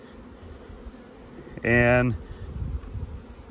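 Honey bees buzz around a hive frame, a sharp loud burst of droning close by for about half a second amid quieter rustling handling noise, with a brief word spoken.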